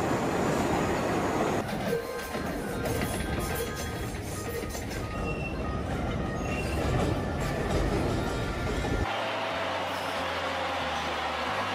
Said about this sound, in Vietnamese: Subway train.